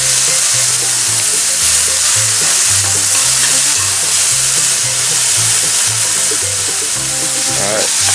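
Wild-caught shrimp sear in a hot pan with a loud, constant sizzle and hiss that fills the whole stretch. A low rhythmic rumble and occasional clatter run underneath.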